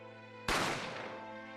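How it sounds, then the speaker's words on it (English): A single sharp gunshot rings out in a video game, a sudden loud crack over a quiet musical tone, decaying over about a second. "The gunshot."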